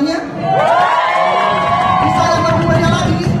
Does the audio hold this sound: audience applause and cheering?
yes